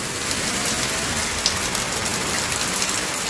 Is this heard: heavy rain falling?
yes